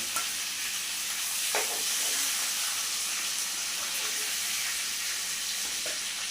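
Prawns frying in oil for chingri malaikari, a steady hissing sizzle at moderate loudness with a few faint clinks of a utensil.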